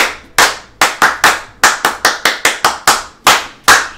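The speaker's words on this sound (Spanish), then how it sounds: "un aplauso para Luis López" Sharp, distinct hand claps from a small audience greet a raffle winner at an event. About a dozen loud, crisp claps land in a quick, uneven rhythm, close by and with no talk over them.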